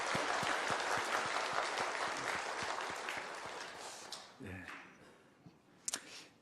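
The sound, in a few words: congregation applauding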